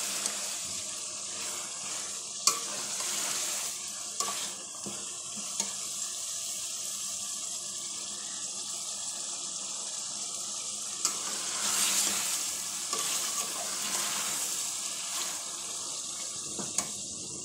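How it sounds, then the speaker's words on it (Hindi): Spicy stew meat fries in a pan with a continuous sizzle, punctuated by occasional sharp clinks and scrapes of a spoon stirring it, steady and close with no talking. "ये भून रहा है अभी तकरीबन भुन चुका है"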